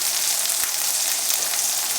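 Sausages and eggs fry in a pan with a dense, even sizzle and crackle of hot fat, steady and close throughout with no voices.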